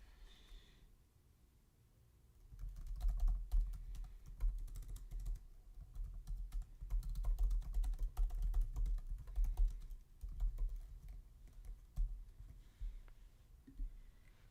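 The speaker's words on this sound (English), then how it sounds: "I'm still typing." Rapid clicking of a computer keyboard being typed on up close, a busy stream of keystrokes with brief pauses, plus some audible breathing.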